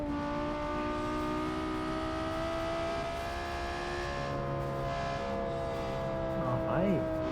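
A car accelerates hard in a straight-line performance test, its engine a steady, fairly distant drone with rising harmonic tones over a constant road rush and no voices.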